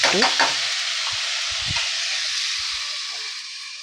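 Potato and eggplant sauté in a pan with a loud, steady sizzle that fades slightly toward the end, with a few soft scraping stirs and clinks near the start.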